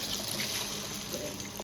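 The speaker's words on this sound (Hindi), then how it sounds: "पानी डाल दूंगा ऊपर से" Water is poured over fennel seeds, cumin and garlic in a bowl to soak for masala vada, making a continuous close trickle and splash that stops abruptly at the end.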